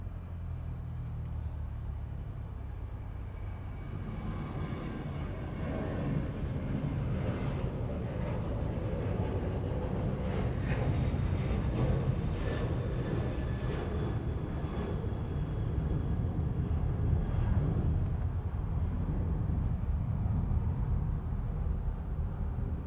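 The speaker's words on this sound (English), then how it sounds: "our Turkish Airlines flight all the way from Istanbul" A Turkish Airlines jet from Istanbul moves at Los Angeles International Airport, a continuous low engine roar that builds slightly and holds steady, broad and moderately distant.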